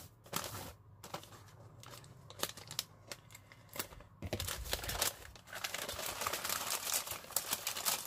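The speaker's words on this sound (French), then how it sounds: "je vais découper le papier parce que j'aimerais pouvoir le garder" Paper being cut and crinkled, with a series of short snips and rustles close by, irregular in rhythm, with no talking.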